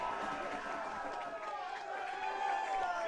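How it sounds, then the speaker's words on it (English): A home crowd at a Blue Jays college men's lacrosse game makes a continuous roar of noise after a goal. A voice carries faintly over the crowd. "Much to the delight of this Blue Jay crowd"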